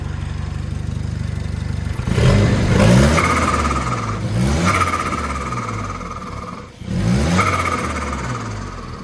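Volvo 740 Turbo engine, just after a distributor adjustment, revved up close by three times from idle, each rise quick and strong before dropping back to a steady idle.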